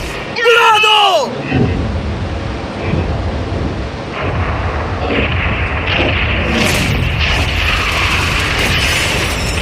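Yacht being blown up in a game, a loud deep boom up front, then a long rumbling roar with crackling debris and mechanical clatter, with bursts of excited voices over it.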